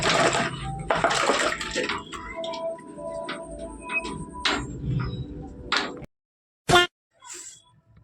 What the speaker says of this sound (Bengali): চলো হাতটা ধুই